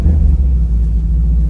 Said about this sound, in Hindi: भाई मेरे रिएक्शन के साथ तुम गाड़ी की आवाज़ सुनना।